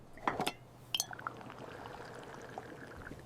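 Liquid poured into a children's volcano science experiment, a few sharp clinks and splashy pouring sounds early on, then a soft fizzy trickle under a quiet background.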